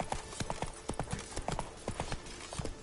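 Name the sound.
horse Roach's hooves galloping, from video game Witcher III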